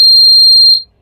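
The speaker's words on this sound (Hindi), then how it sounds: "ये देखिए हम पुश स्विच को ऑन कर रहे हैं। ये देखिए बजर ऑन हो गया।" An electronic buzzer sounds a loud, steady high-pitched electronic tone after being switched on with a push switch, holding for under a second before cutting off abruptly.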